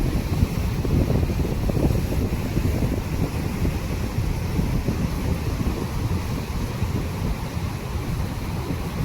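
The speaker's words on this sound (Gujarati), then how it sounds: "અહીંયા મોજા છે જુઓ એવા મોજા ઉછળે છે" Surging sea waves churn around boats in a strong wind, a loud continuous roar with heavy low buffeting and wash that fills the whole stretch, with no talk.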